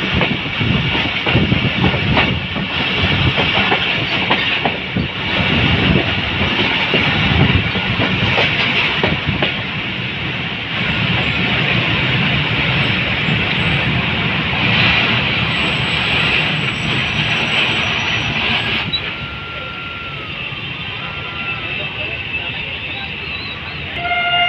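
An HGMU-30R diesel locomotive hauling the 152DN Shah Latif Express departs Malir Colony railway station, its loud rumble and wheel clatter continuous and close, with a horn toot and a quieter fade near the end.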